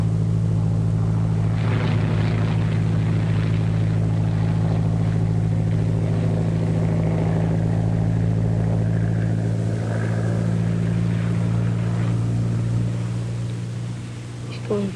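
An airplane in a 1939 aviation film, a steady droning propeller engine heard throughout with a strong low hum, while people talk over it.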